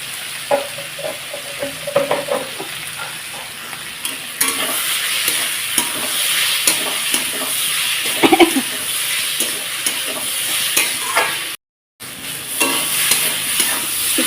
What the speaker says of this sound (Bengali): দেখো ভালোভাবে হলুদ দিয়ে কষিয়ে নিয়েছি